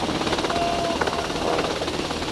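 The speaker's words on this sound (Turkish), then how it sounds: "Helikopter burada." A helicopter overhead near a large ship at sea, heard as a steady, loud broadband rotor roar with a rapid pulsing chop filling the whole moment, no pauses.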